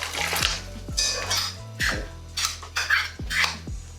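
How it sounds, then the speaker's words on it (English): Metal utensils clank and scrape against a cast iron pot as clam and chicken soup ingredients are moved into it, with several sharp knocks spread over a few seconds, close by and fairly loud, with no talking. "we're going to transfer our ingredients. I'm using a cast iron pot"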